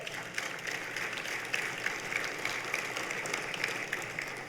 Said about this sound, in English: give that a round of applause